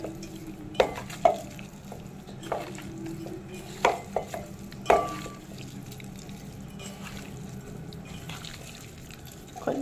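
Spicy chicken fry with a little rice powder is mixed in a pan, soft scraping and stirring with a few sharp spoon knocks against the metal, moderately quiet and close.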